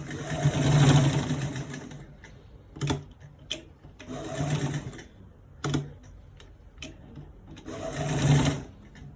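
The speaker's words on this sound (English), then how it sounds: "I will sew it to the end pad" A sewing machine stitches fabric for a V-neck design joining two different fabrics. Three long bursts of close motor whirring and needle chatter are separated by brief pauses with small clicks.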